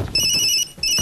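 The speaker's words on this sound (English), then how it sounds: "if the phone is ringing" A phone ringtone plays as a loud electronic trill, sounding in two quick bursts with a short gap between them, over faint background noise in a television comedy sketch.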